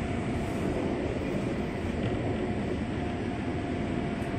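The Argo Parahyangan long-distance train rolls past a commuter train, producing a continuous loud rumble and rush of wheels and carriages that holds steady throughout, with no voices.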